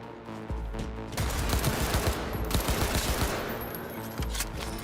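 Assault rifle fire in the video game Cyberpunk 2077 comes as a loud, sustained automatic burst lasting a few seconds. Sharp repeated reports sit over a dense, booming game mix.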